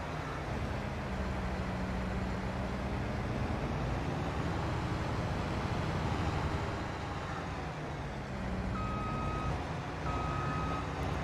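A vehicle in Farming Simulator 22 sounds a reverse beep, a few short electronic tones repeating late over a steady, loud engine rumble from a heavy farm machine.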